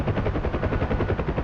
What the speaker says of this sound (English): No, that's me and another tank shooting it.